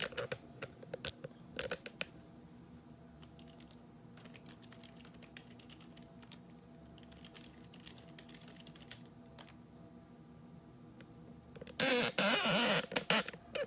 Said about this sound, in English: I typed in the username and password